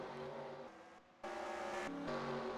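Race car engines whine at high revs in a stock-car racing video game at Kansas, the tone shifting as cars pass, with a brief drop in level partway through and no voices.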